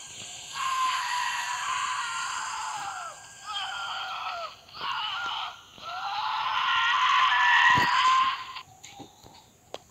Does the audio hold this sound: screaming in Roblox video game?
yes